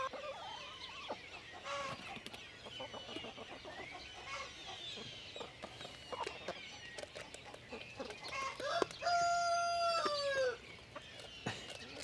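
Chickens on a small farm cluck and chatter nearby in an irregular stream, with a rooster crowing loudly partway through.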